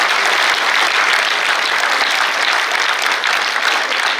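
A dense, steady burst of audience applause at a political talk on energy policy, loud and sustained throughout with no pauses, many hands clapping together.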